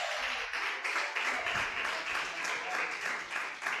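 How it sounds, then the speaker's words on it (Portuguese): A church congregation claps together in steady, sustained applause, a dense wash of hand claps filling the room with some voices mixed in. "Pode aplaudir ao nome do Senhor."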